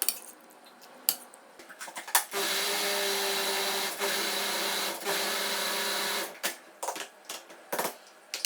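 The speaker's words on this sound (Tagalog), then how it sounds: "At eto nga na medyo malamig na yung soup ay inumpisahan ko na siyang i-blend." A blender purees cooled soup in a kitchen in a steady loud whir of about four seconds, with brief dips in pitch. Clatter and handling knocks come before and after.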